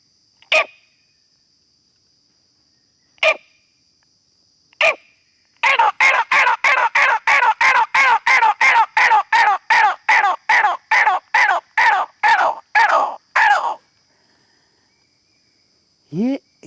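A man mimics the grey partridge call by voice: three isolated sharp notes, then a fast rhythmic run of about twenty loud, evenly spaced calls, with a final rising note.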